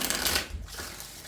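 A tarot card deck is shuffled by hand, a brief close riffling flutter that fades after a moment, with no voice over it.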